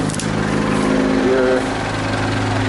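A Timberjack 450 skidder with a Detroit 4-53 diesel runs loud and close, a steady throbbing rumble with a strong low pulse and a brief rise in pitch, a voice speaking over it.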